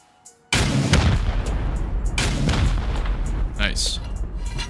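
Rocket fire striking an embrasure in a video game, with a loud sudden blast after a brief quiet start, followed by sustained rumbling explosions and further booms.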